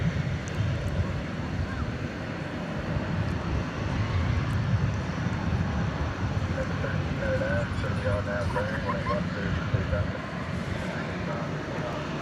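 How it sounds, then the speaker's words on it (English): American Airlines jet on the runway at DFW Airport at night, departing for London Heathrow: a continuous broad engine rumble and roar at moderate distance, steady throughout, with chirping insects and occasional voices over it. "Looks like the American Flight 80 to London Heathrow is queuing up to take off."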